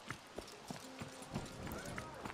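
Hooves clip-clop at a regular trot while riding a horse in a video game, evenly spaced thumps through the clip over a constant game ambience, with someone talking part of the time.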